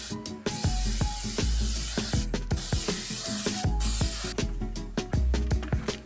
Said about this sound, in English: Spray it on, wipe it off, and then one last spray.